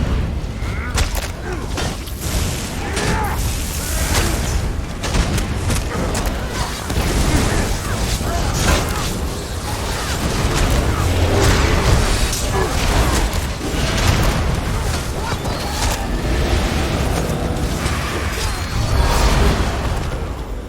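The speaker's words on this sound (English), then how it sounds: "See those explosions?" Repeated explosions in a fight in the video game Elder Scrolls Online, loud booms and crashes layered densely over continuous combat noise for the whole stretch.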